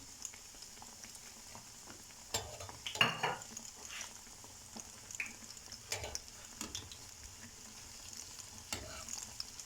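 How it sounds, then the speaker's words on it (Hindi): Semolina bread pakora frying in oil in a pan over medium-low heat, a soft continuous sizzle with occasional louder pops, stirring and clinking of utensils against the pan, fairly quiet and close. "आपने हीट बहुत तेज़ नहीं रखनी, मीडियम से भी लो हीट पे आप इनको फ्राई करेंगी"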